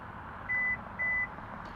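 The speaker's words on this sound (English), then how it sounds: "Just hold the button down and listen for it to beep." Two short electronic beeps sound from a 2023 Hyundai Tucson XRT power liftgate as its opening height is set, evenly spaced and clear over a faint steady background hum.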